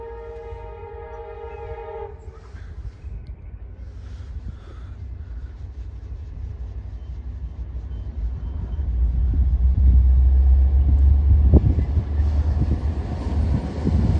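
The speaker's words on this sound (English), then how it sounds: "Because I can tell of a horn sound." Amtrak Capitol Corridor train led by F59PHI locomotive 2007 sounds a loud horn blast for about two seconds, then the heavy low rumble of the passing train builds and grows louder, with rattling cars close by.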